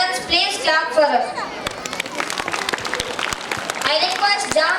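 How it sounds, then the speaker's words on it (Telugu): Parents applauding after a classical dance performance: a short burst of clapping from a small crowd, mixed with chatter and a voice talking at the start and end. "parents please clap for us"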